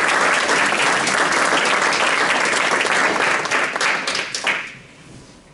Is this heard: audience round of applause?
yes